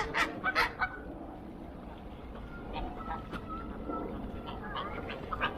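Feeding birds squabble, honking and quacking like geese and ducks in a few sharp bursts, then a lower ongoing chatter of calls at moderate distance.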